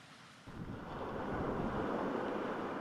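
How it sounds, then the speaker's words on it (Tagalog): Strong wind roars over big waves crashing on a rough sea at a beach in Ilocos Norte, a steady loud wash of surf and gusting air that swells after a brief quieter start, with no voices. "tila galit na dagat sa naglalakihang alon na sinabayan ng malakas na hangin"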